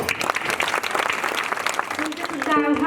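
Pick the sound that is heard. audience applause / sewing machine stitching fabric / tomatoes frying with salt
audience applause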